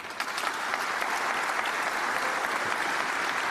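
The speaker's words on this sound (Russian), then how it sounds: "Ну, пока рано так бурно аплодировать" Steady, dense applause from a snooker match audience fills the hall, continuous and fairly loud without pause, with no voices standing out.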